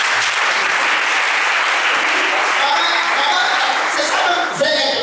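A church congregation claps loudly and continuously during a worship service, dense steady applause with voices mixed in throughout.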